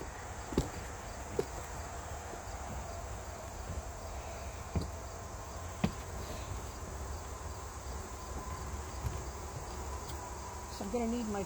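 Honey bees hum faintly and steadily around beehive number 5 during beekeeping work, a soft continuous drone with occasional clicks and knocks from handling, and a brief voice near the end.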